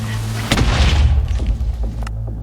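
A sudden explosion booms in a zombie survival video game, a single heavy thud over a constant low hum, followed by scattered debris clatter and fading rumble.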